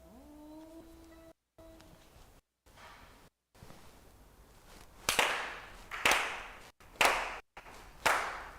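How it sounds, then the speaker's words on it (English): A congregation at a Konko fall memorial service claps in unison four times. The claps are sharp and evenly spaced about a second apart, each with a short ring. Before them come a brief wavering tone and quiet gaps. "Let us clap our hands 4 times together."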